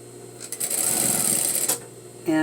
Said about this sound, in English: So now I'm going to finish sewing my